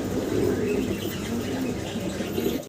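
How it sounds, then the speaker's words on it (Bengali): Peshawari pigeons cooing together in a loft, a dense, steady murmur of overlapping low coos that runs without pause throughout, close and fairly loud. "এটা পেশোয়ারি। পেশোয়ারি কবুতর।"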